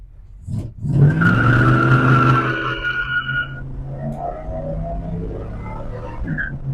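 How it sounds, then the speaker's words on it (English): A car with a shift kit accelerates hard with its tires spinning, the engine note rising and tires squealing loudly for a few seconds before fading to a lower rumble. "I don't want to burn the tires off because they're expensive, but let's just see what she's got."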